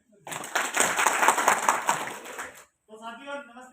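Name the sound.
clapping for a speaker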